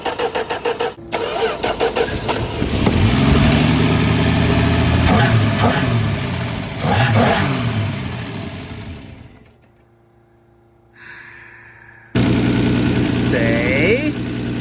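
Slant six engine in a 1965 Plymouth Valiant cranking and catching, revving unevenly and idling roughly, stalling into near silence for a couple of seconds before firing again; someone speaks briefly during it.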